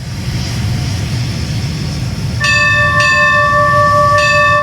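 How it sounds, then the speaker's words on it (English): The locomotive bell of an LNER A3 Flying Scotsman in Train Simulator Classic rings three bright, spaced strikes over a steady, loud engine rumble. "the bell actually moves, which I think is very cool"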